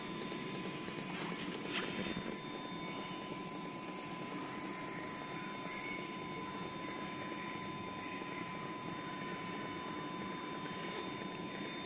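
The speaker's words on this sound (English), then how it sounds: "Quick test weld to function, make sure the machine's working right as it should be with the 20 head." A Swagelok M200 orbital welder fitted with a 20 series head runs a test weld, giving a steady mechanical drone with a thin constant whine that continues without pause throughout.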